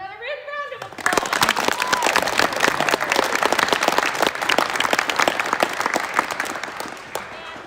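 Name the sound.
audience applause at a children's theatre show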